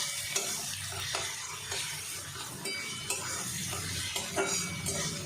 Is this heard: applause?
no